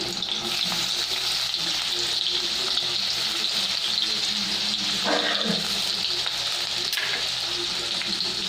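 Onion, ginger and garlic frying in a pan for a pork curry, a steady, dense sizzle with occasional stirring scrapes, close and continuous.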